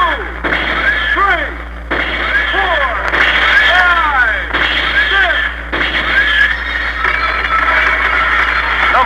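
Gunshot and ricochet sound effects in a 1962 New Orleans Top 40 radio contest broadcast: five or six loud repeated bursts with whining, falling ricochet tails at steady intervals, with a voice underneath.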